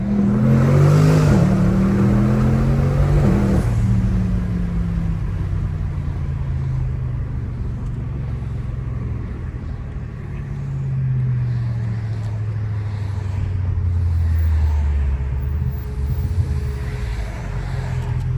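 Heard from inside a BMW M550i, the engine revs upward in a rising whine, drops at a gear change, then climbs again under steady road noise.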